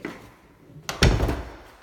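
An interior bedroom door swings shut in a house, giving a single soft thunk with a brief rattle, fairly close and alone without talk.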